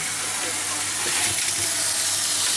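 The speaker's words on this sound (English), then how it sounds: "Mushrooms are frying in butter." Mushrooms frying in butter in a pan for a Father's Day fry-up, giving a steady close sizzle and hiss that holds throughout with no break.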